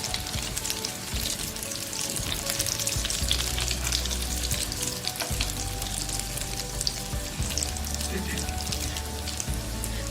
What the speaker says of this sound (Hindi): अब दूसरी साइड से हम इसको कर लेंगे फ्राई।